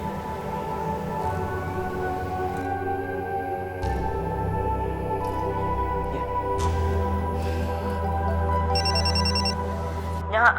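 A mobile phone ringtone plays steadily for about ten seconds over a low continuous background hum, loud and close, with no talking.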